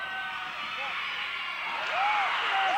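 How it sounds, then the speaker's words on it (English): A high school basketball crowd in a packed gym reacts to a game-tying free throw attempt, a sustained roar of voices and cheering that swells louder near the end, with scattered shouts rising above the din. "I'll just let the crowd tell you what happens."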